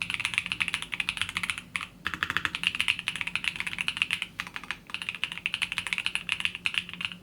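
Rapid, steady typing on an ASUS ROG Azoth Extreme mechanical keyboard set to Soft mode, close and clear, with dense clicky keystrokes running in bursts and two brief pauses, no voices.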